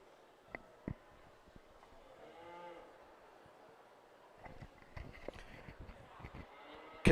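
Market heifers at a beef cattle show at a state fair lowing now and then, one drawn-out moo standing clear in a fairly quiet barn, with scattered hoof knocks and shuffling clatter building toward the end.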